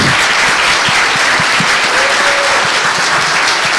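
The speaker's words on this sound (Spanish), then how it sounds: "les pido el más caluroso de los aplausos para don Miguel Launer" A crowd at an inaugural talk gives Miguel Lawner warm applause, a loud, dense, continuous wash of clapping that stays even throughout with no speech over it.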